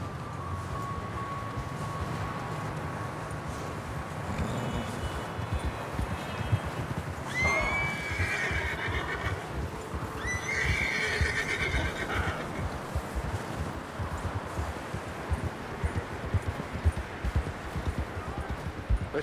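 In Red Dead Redemption 2, a horse whinnies twice in high, wavering calls over a steady, close clip-clop of hooves, with low game ambience underneath.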